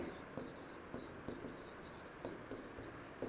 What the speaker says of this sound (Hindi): तो अब हम लिखेंगे